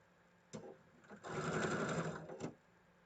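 A sewing machine stitches a quilt block, starting with a short burst, then running steadily for over a second before stopping, close and moderately loud with no talk.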